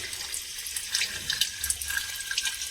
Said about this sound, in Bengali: এই যে দেখুন এখান থেকে জল পড়ছে জল লিক করছে